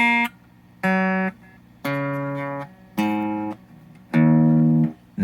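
An electric guitar on a split bridge pickup, played through a blackface Champ amp with a 15-watt 12-inch alnico speaker, rings out five clean, sustained single notes or chords at a steady, unhurried pace, close and alone.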